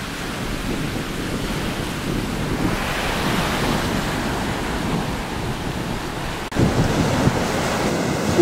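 Wind blowing steadily across a beach on La Digue in the Seychelles, with waves and surf rolling underneath, broad and continuous, with a brief gust buffeting the microphone near the end.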